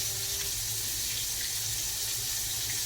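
Tap water pours steadily into a sink while fried chicken pieces are rinsed, a continuous close hiss and splash that stays constant throughout with no talking.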